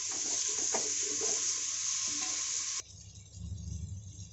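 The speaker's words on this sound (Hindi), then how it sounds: "प्याज को हल्का सा नरम होने तक भूनेंगे, ज़्यादा नहीं भूनेंगे, हल्का सा नरम होने तक भूनेंगे।" Onions frying in a pan until just soft give a close, steady sizzle with a few stirring scrapes for a village-style aloo gosht salan. The sizzle cuts off abruptly partway, leaving a low rumbling background. No voices.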